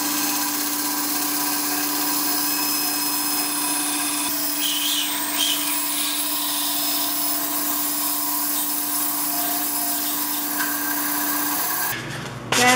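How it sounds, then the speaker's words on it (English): A power tool cuts through a quarter-inch piece of plexiglass with a loud, steady droning whine and a gritty rasp. The sound holds unbroken for about twelve seconds before stopping. "And I'll just cut that out real quick."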